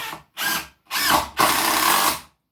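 A power drill drives a screw into wood while a shaving horse is built, heard as three close, loud whirring bursts, two short and a longer final one, separated by brief silences.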